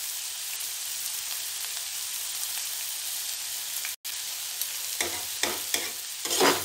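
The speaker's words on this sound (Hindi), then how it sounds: "अब इसको अच्छे से मिक्स कर लेंगे।" Raw papaya bhujia sizzles steadily in a pan, then a spatula starts stirring partway through, adding brief scraping strokes and light knocks over the continuous frying hiss, close and moderately loud.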